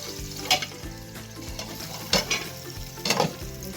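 Chopped garlic sizzling in hot oil in a pan for a Haitian dish, with steady frying crackle broken by a few scraping stirs of a utensil, close and alone.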